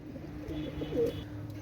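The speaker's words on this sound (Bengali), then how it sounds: "এই আরেক জোড়া ওমান টেডি কবুতর" A pair of Oman teddy pigeons coo in low, soft, rolling calls, close by, against a steady background hum, with no voices.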